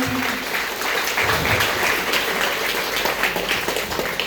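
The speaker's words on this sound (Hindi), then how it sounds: "आप लोगों के पास जोरदार तालियां हो जाए जो नए लोग आए हैं" Loud applause from an audience at a gathering, welcoming newcomers, continuous clapping from many hands that stays strong and even across the few seconds, with no talk over it.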